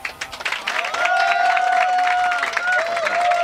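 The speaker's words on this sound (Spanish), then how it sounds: "Pedimos un fuerte aplauso" A crowd applauds steadily at the Train Jam Argentina 2017 game developer event, clapping filling the space while a tonal whistle-like sound rises and holds over it.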